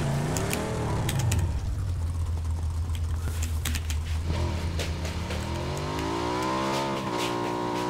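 A motorbike engine in PUBG revs and drones steadily up close, its pitch sliding up and down as the throttle shifts, with sharp clicks scattered over the top and no voices.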